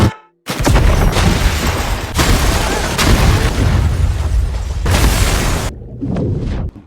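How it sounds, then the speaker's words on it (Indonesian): Loud, sustained explosion in a film, a heavy booming roar that shakes a building, filling several seconds before cutting off abruptly, followed by a quieter rumbling tail. "Ledakan mengguncang gedung."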